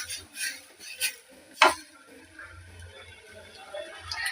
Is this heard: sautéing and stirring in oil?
yes